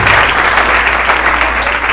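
Loud, sustained applause from a church congregation during a worship service, dense continuous clapping filling the whole moment without pause.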